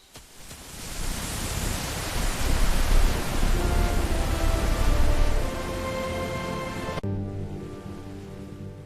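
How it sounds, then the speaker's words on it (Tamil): Steady cartoon rain effect in a children's animated moral story, a loud broadband hiss that swells and holds before thinning abruptly near the end into a quieter tonal backdrop, with no voices. "ஐயோ, இந்த மழை எப்போ நிக்கும்?"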